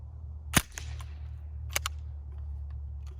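A single sharp report from a Ruger 10/22 rifle converted to full-auto fire, a test shot followed by a couple of fainter clicks over a steady low hum.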